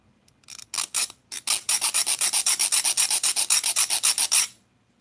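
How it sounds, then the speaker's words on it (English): Metal being sanded by hand, a few tentative scrapes leading into a steady, rapid series of about twenty even back-and-forth rasping strokes, close-miked and loud, with no voices. "I've been sanding, it feels like all morning"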